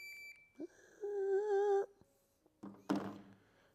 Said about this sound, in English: So I'm going to set it up here, dry fire timer